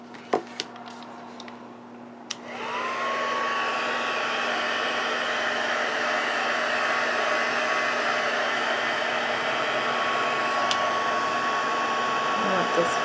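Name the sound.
heat tool drying watercolor on a card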